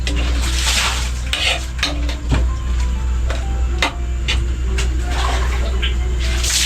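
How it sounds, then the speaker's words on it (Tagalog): A spoon stirs cooking food in a metal pot over a stove, with repeated clinks and scrapes against the pot under a steady sizzling background while a person talks. "Tapos haluin natin siya ng haluin."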